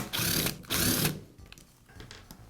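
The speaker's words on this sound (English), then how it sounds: "Now remove the cord clamp." A cord clamp is removed from a Porter Cable sander during repair, giving two short bursts of mechanical rattling and scraping followed by quieter clicks and handling noises up close.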